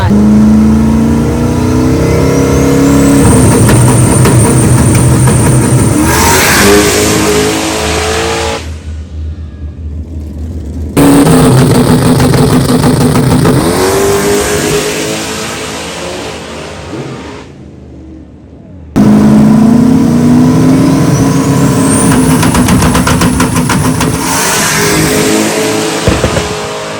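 A drag race car built for street outlaw racing revs its engine loudly and close by in three long bursts, each cutting to brief near-silence before the next roar.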